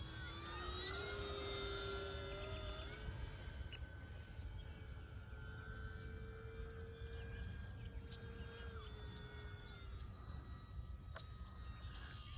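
An E-flite P47 radio-controlled plane on its landing approach with half flaps produces a faint, continuous motor whine whose pitch slowly rises and falls as it passes at a distance.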